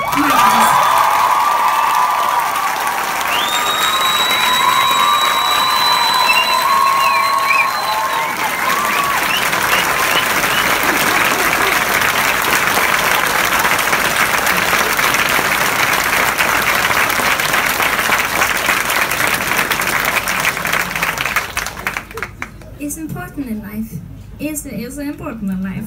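A concert crowd at a show applauds and cheers loudly for a band member, with whoops over sustained clapping. The noise fades sharply near the end.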